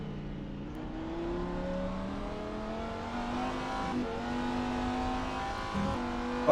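A high-revving Lamborghini race car engine in a sim racing game screams through several upshifts, pitch climbing and dropping with each gear change, loud and close throughout.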